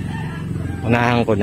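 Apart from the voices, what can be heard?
rooster crowing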